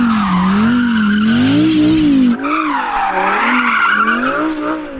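Tyres squeal in long wavering skids as cars warm up their tyres before an Audi R8 versus Porsche Cayenne GT drag race, first one loud sustained screech, then a second, higher squeal after a brief break.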